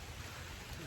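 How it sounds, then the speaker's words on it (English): Heavy rain pouring outdoors beneath a pecan tree, a dense, constant broadband hiss that fills the whole moment evenly with no breaks, fairly close and steady. "it's started pouring rain again"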